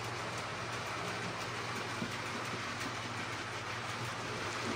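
A Hornby model of the Flying Scotsman steam locomotive in its 1926 London North Eastern Railway form runs on its track, a steady whirring rumble with a faint rhythmic clatter and a high motor whine throughout.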